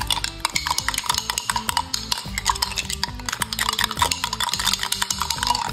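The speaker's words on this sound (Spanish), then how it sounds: "Vinagre blanco, sal, pimienta, un poco de mostaza. Mezclamos todo muy bien." A utensil briskly whisked in a bowl of vinaigrette made from white vinegar, salt, pepper and mustard, fast steady clinking and scraping strokes close up, with no talking.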